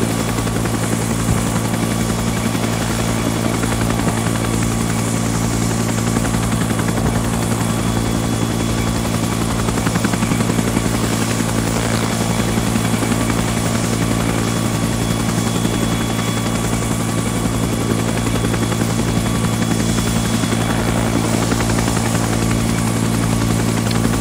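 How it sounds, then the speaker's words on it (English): A helicopter flies nearby in the Arma 3 Vietnam-era Prairie Fire mod, its steady rotor thump and engine drone loud and continuous throughout. "That's where that other chopper looks like he's headed."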